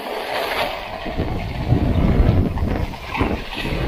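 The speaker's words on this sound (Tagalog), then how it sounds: "At napakalakas ng ulan. Malakas pa ang hangin" Strong wind buffets the microphone over a steady wash of heavy rain, loud and continuous with gusts swelling in the middle.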